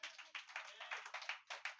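A church congregation claps in quick, rhythmic bursts, faint and distant, with no voices over it.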